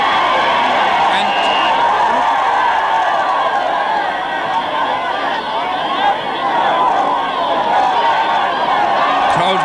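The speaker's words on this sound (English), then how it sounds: "crowd getting excited here, trying to encourage John" Excited crowd noise from spectators at a 1983 Munster Club hurling final replay between Midleton and Borrisoleigh, a steady loud roar of shouting and chatter sustained through the whole stretch without a clear commentator voice.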